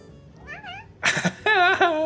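A cat gives a short, soft meow, then after a pause two louder, drawn-out protesting meows close by, clear and alone.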